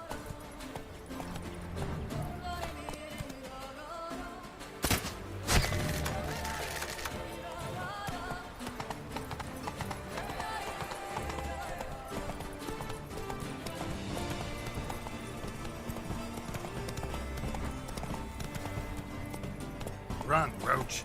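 Hoofbeats from Roach the horse in The Witcher: Wild Hunt pound steadily in a galloping rhythm alongside game music and a brief crash, with a voice speaking over the ride.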